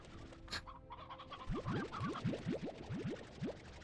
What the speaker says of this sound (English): Let's eat all the chickens.